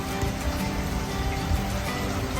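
Steady rain falling on a farm with a grassy lawn, a dense, even hiss of drops on surfaces lasting throughout, fairly close and moderately loud with no voices.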